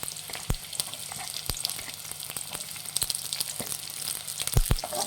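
Chopped onions sizzle in hot oil with green chillies and garlic on a low flame for a home-style chilli chicken, a steady close crackle broken by a few sharp taps of a stirring spoon.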